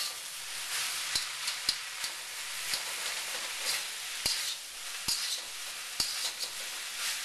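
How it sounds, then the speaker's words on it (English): Beef fried rice being stir-fried in a wok, with a steady sizzle and the sharp scrape and clack of a spatula striking the pan at irregular intervals, close and continuous. "Add your rice in, and then you break it up and mix it together with the other ingredients."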